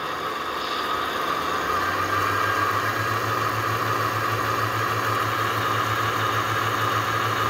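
A battery-powered Williams 3-rail scale model train engine, converted to dead rail, runs at full speed in reverse, a steady motor hum and whine settling in after a moment and holding evenly.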